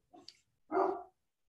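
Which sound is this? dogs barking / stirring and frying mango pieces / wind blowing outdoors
dogs barking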